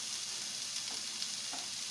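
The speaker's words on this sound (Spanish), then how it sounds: "la sartén tiene que estar un poquito caliente, el aceite, para que salgan ricos los frijoles" Beans frying in hot oil in a pan hiss steadily with a bright, continuous sizzle, close and even, with a few faint soft bubbles and no talk.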